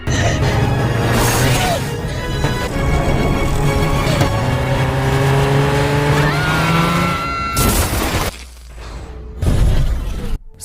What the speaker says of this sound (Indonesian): Teresa pun segera pergi menggunakan mobil ayahnya